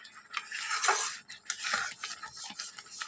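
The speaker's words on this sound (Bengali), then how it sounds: "এভাবে নেড়ে নেড়ে নেড়ে নেড়ে দেখো গুড়টা কমপ্লিট হয়ে গেছে" Jackfruit jaggery is stirred in a pot, heard as close, quiet scraping strokes in uneven bursts, with no talk.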